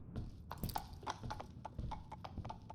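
Horse hooves clip-clop in a Poe-themed gamebook, a quiet, uneven series of soft hoof knocks heard alone over a faint low background.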